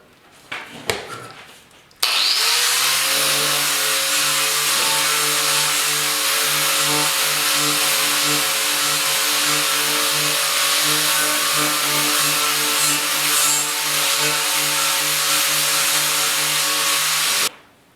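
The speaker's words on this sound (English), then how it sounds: "take all this mill scale slag off this off these sides so we can weld it" A power grinder strips mill scale off the steel sides of a stair railing to prepare them for welding, running as a loud, steady, high-pitched whine for about fifteen seconds before cutting off, with no talk.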